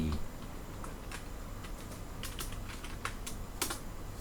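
Someone types at a steady, light pace on a Mac computer keyboard, and the close, quiet key taps run continuously with no talking.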